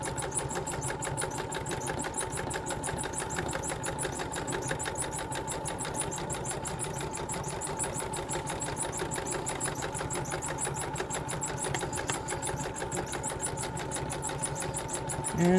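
A sewing machine runs continuously, stitching a quarter-inch seam on 18th-century fall-front trousers, with a rapid, even mechanical whir and clatter held steady throughout, close and moderately loud, with no talk.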